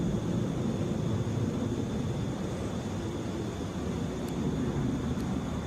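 A steady, broad roar of jet airplanes fills the air at Atlanta International Airport, a continuous distant engine rumble and whine with no breaks.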